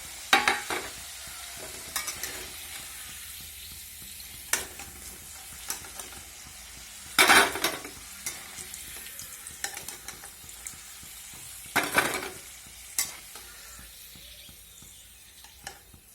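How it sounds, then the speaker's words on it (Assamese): Potatoes fry in a pan for a Sunday chicken curry, a steady close sizzle broken by several louder bursts of stirring and scraping, with no talking. "আলুখিনি ধুনীয়াকৈ ফ্ৰাই কৰা হৈ গ'ল"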